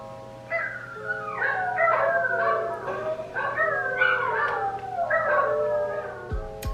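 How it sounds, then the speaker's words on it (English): Several dogs howl and whimper together in rising and falling wails, close and fairly loud, repeating in overlapping bursts for several seconds indoors. "my dogs finally calmed down a little bit"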